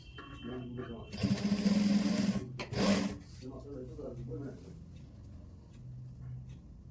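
Sewing machine stitching pleats into a ready-to-wear saree, a short loud burst of running stitches near the mic, followed by a second brief run, with someone talking around it.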